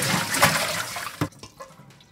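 Water splashing and pouring as pig's trotters are rinsed with a cup and scrubbed for Korean braised jokbal, a loud gushing burst that breaks into scattered drips and small splashes near the close.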